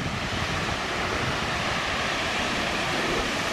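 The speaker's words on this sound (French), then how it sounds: "je peux vous dire que c'est pas la petite cascade" Large waterfall at the Cascades du Morel in Savoie, heard as a loud, steady broadband roar of falling water that fills the whole clip with no pauses and no voices.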